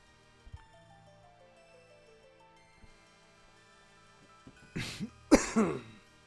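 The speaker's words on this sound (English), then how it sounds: "apologize too for that cough." Two harsh coughs in quick succession break an otherwise quiet background with faint tones, the second cough louder and longer.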